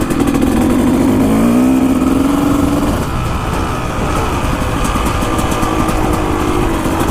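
A dirt bike engine revs hard and steadily near the microphone, its pitch rising and then holding high before falling into a rough, sustained roar to clear out carbon.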